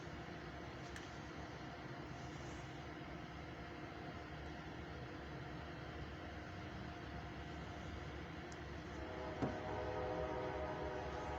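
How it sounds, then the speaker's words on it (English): Eastbound CFE mixed freight train passing a railroad crossing at night about 7 miles east of Van Wert, Ohio, a steady low rumble and rolling drone throughout, with a brief sharp accent near the end. "This is an eastbound train heading towards Lima"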